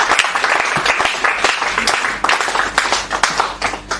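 Audience applause at a Hindi comic poetry gathering (hasya kavi sammelan) welcoming poet Dilip Dubey, a dense, loud burst of many hands clapping that runs steadily for the whole stretch with no voices over it.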